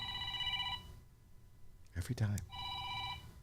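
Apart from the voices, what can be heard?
phone ringing with an incoming call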